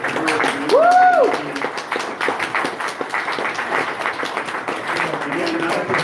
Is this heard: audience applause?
yes